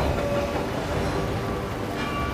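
Steady rumbling train noise from Hitman 3 VR, a continuous broadband rolling clatter with no talk, like riding on or beside a moving train car.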